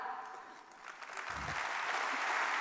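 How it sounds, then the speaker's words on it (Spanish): Crowd at a political rally applauding a speech, a dense wash of clapping that starts fairly quiet and swells louder, with a low thump partway through. "No sigáis aplaudiendo, que me queda una lista."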